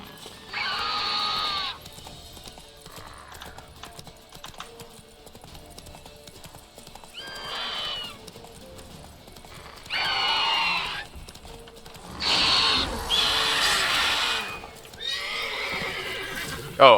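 Hoofbeats of a horse in The Witcher 3: Wild Hunt, with several loud neighs and whinnies breaking out in bursts over a quieter clip-clop and game ambience.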